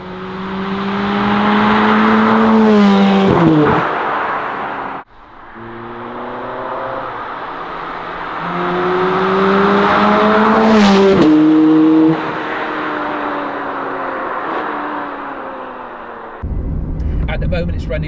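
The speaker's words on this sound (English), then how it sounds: "At the moment, it's running the standard Scuderia exhaust system." A Ferrari 430 Scuderia on its standard Scuderia exhaust accelerates through the gears on a road, its engine note rising and dropping at each shift, loud and close, with a pause and a low rumble near the end.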